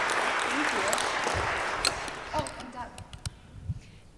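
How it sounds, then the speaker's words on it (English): Audience applause after a history lecture, a dense round of clapping that thins out toward the end into a few scattered claps, with some voices and room noise underneath. "Let's give another huge round of applause to Thank Deb."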